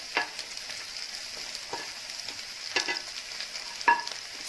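Capsicum, green chilli and spring onion sautéing in a pan, a steady soft sizzle with occasional sharp clinks of a spoon stirring against the pan.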